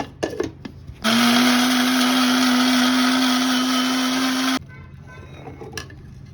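A blender whirs a cold coffee mixture to froth in one loud, steady burst of about three and a half seconds, preceded and followed by light kitchen clatter.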